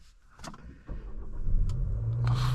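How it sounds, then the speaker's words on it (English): A 2026 Nissan Sentra SR starting up on a hot day, with a brief starter crank followed by a low, steady idle hum that builds and settles, heard from inside the cabin. "Let's start up the vehicle here."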